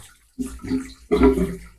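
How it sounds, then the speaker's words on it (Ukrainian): Water gushes out of an opened union fitting on a drained pool pipe loop, two short splashing bursts with a brief gap between, close and fairly loud, no voices. "тому оцю петлю також треба злити. Для цього розбираємо цю розбірну муфту або американку, що кажуть."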